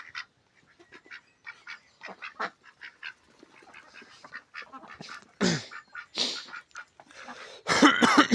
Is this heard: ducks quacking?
yes